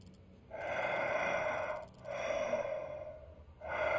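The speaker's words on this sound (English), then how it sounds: "Who keeps breathing?" Heavy breathing in Resident Evil 4 Separate Ways, slow loud drawn-out breaths in and out repeating at a steady pace, close and alone.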